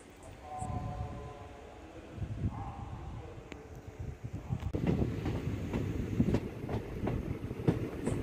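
A passenger train on the Kollam–Sengottai line in the Western Ghats rumbles steadily past, its low rolling noise building and holding with rhythmic wheel clatter near the end.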